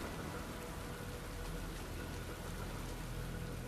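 Steady rain pours down in a stormy night setting in the video game Metal Gear Rising, a constant dense hiss of falling water with no talking.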